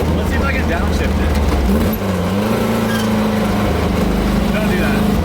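A 1968 Volkswagen Baja Bug engine drones loud and steady from inside the car, its pitch dipping and rising again through a downshift, with people talking over the engine.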